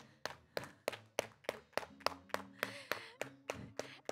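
A storytelling show audience claps in a steady rhythm, with about a dozen sharp, evenly spaced claps close by and no talk over them.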